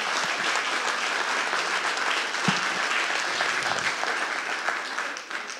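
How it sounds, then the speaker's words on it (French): Dense, steady applause from a concert audience at a June 2021 talent show, a broad wash of many hands clapping at close range that holds for the whole stretch and thins slightly at the very end. "Ils méritent encore des applaudissements, s'il vous plaît."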